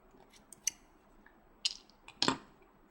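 Scissors snip through rubber loom bands in a quiet room, with a few soft sharp clicks and then two louder close cuts near the end.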